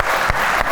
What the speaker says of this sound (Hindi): तालियां आ जाएं भाई खवातीन के लिए